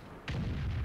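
In the World of Tanks video game, a tank cannon shot hits enemy armor, producing a single sudden heavy boom that rings on briefly.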